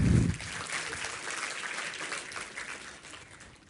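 A room of attendees at an International Women's Day company gathering breaks into steady, fairly quiet applause that holds evenly and then tapers slightly toward the end.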